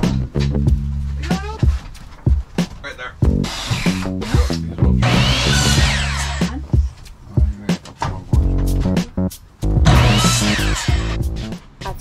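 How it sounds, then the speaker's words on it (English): Power drill boring into wood while building out a bus, with bursts of whirring and grinding broken by knocks and handling noises, close and loud, alongside some brief talk. "I love feeling the drill go into the wood."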